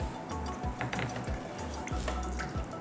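Water is poured into a pot for Calicut chicken biryani, making a steady run of gurgling, dripping and glugging splashes close by, with no voices over it.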